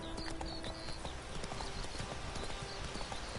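Horse hooves clip-clopping steadily along a road in The Witcher 3, an even, continuous trot at close range with faint background ambience and no talk.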